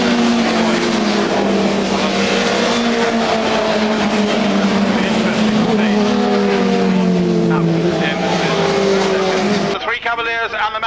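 Touring cars race at Knockhill in the 1992 BTCC, with BMWs, Cavaliers and a Mazda roaring loudly in a sustained multi-engine drone. A commentator talks over the engines throughout, and the sound cuts off abruptly near the end.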